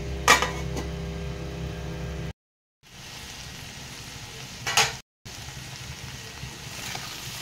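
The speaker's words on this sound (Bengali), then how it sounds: "চিংড়ি মাছটা দিয়ে দিয়েছি, দিয়ে ভালো করে এর সঙ্গে কষিয়ে নিচ্ছি।" Prawns frying with spice masala and vegetables such as taro, potato, eggplant, radish and long beans, a close steady sizzle with spoon clinks and stirring scrapes, broken by two short silent gaps.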